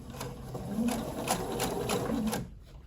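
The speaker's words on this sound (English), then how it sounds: "Just going to finish that little bit of a seam here." A domestic sewing machine stitches a quilt seam with a fast, even, rhythmic chatter, running close and continuous for over two seconds before cutting off into quiet.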